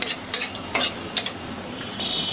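A torn dried red chili fries with cinnamon, cardamom and cumin in a little hot oil, a steady close sizzle broken by four sharp spatula scrapes against the pan, no talk.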